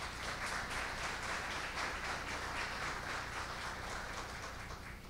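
An audience at a conference by Microsoft's Latin America president applauds in a dense, even patter of many hands clapping, sustained for several seconds and fading slightly at the end.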